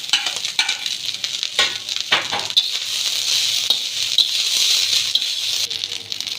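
Egg fried rice with rice and egg frying and tossed in a pan, a loud steady sizzle with brisk scraping and tossing strokes early on, close up and continuous, without voices.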